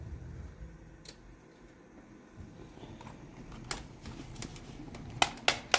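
Keys are pressed on a computer keyboard during an operating system install on a Prosys S478 PC, sparse clicks at first, then quicker taps near the end over a low fan hum.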